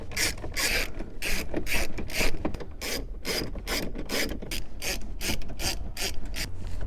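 Rapid ratchet clicking while 10mm bolts are backed out of a Toyota Tundra radio, a continuous close run of rhythmic pawl ratcheting with no talking.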